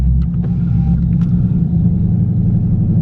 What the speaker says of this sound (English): So we got the car in eco mode, and listen, the exhaust still sounds good.